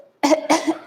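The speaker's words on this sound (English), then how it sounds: "Such a nasty cough." Someone coughs sharply, two or three harsh bursts in quick succession, up close during an indoor kettlebell workout.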